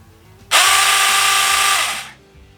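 A small battery-powered chainsaw revs once for about a second and a half, a close, even electric whine that starts abruptly and tapers off quickly as it stops, with no voices.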